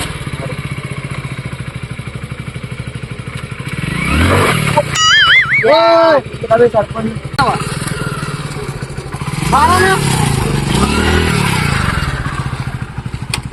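A motorcycle engine runs close by and loud, idling and revving in swells through the passage, while people talk over it.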